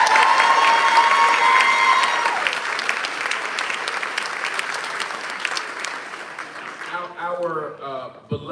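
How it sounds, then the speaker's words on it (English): Audience at a symposium applauding loudly, with sustained clapping and some cheering that fade toward the end as a voice begins speaking. "Please give them a round of applause."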